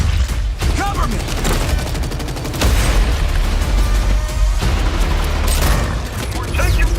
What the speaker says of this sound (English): We're taking fire from both sides.